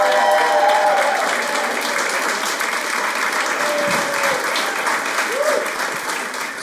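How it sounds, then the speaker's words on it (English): Loud, dense audience applause opening a stand-up comedy special, continuous and full throughout, with cheering and whistles mixed into the clapping. "Start clapping right now and make it loud for Noah Gardenswartz!"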